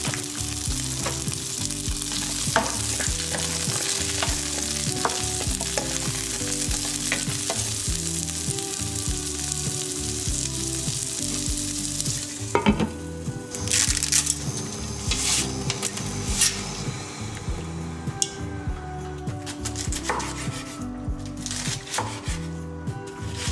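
Frozen food frying in a pan, a loud continuous sizzle layered with scraping and stirring clatter of utensils, plus occasional knocks of cookware, close up and without talk.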